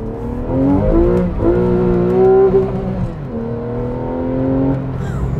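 A Porsche Carrera engine revs hard, its pitch climbing through several gear-like surges and dips as the all-wheel-drive car accelerates close by.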